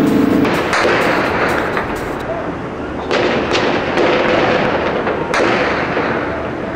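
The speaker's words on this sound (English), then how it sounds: "Shooting." Gunfire in Baghdad at night, loud, dense cracks and rumbling bursts echoing across the city in rapid clusters over a constant roar, with a voice faintly audible beneath.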